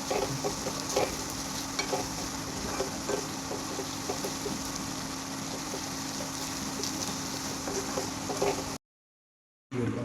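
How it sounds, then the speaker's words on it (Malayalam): Gram flour being stirred as it fries in a pan, a steady sizzle with scraping strokes throughout, close and continuous, cutting off briefly near the end. "കടലമാവിൻ്റെ പച്ചപ്പ് മാറുന്നത് വരെ ഇളക്കി കൊടുക്കണം"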